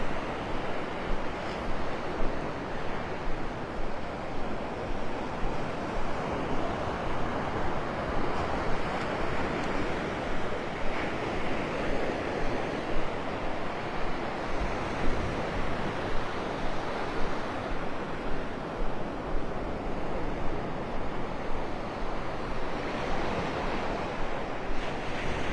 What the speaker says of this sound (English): I love the sound of those waves